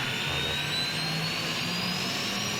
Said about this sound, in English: Okay, engine 1 starting